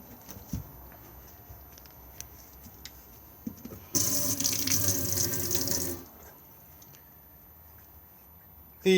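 Fresh water draining from the freshwater tank of a Coachman Laser Xcel 845 motorhome, a steady, close, rushing flow that starts abruptly, runs for about two seconds, then cuts off, with quiet room noise on either side.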